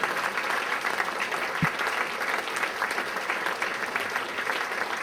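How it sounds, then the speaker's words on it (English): An audience at a political event applauds a keynote speaker, a senator, with steady, dense clapping that holds at an even level throughout. "Huge round of applause for Senator Johnson."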